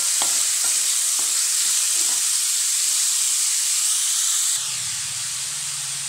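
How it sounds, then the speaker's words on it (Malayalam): Chopped onions for a vegetable samosa filling fry in hot oil with a steady, bright hiss, and a few soft stirring knocks come early on. The sizzle carries on alone and close, then drops and shifts partway through. "സവോളയും കൂടെ ചേർത്ത് നന്നായിട്ടൊന്ന് ഇളക്കി യോജിപ്പിക്കാവേ"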